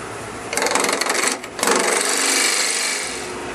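An Ellsworth gouge cuts a spinning wooden birdhouse blank on a lathe, throwing shavings with a loud, continuous hissing scrape, interrupted by a brief pause before the cut resumes steadily.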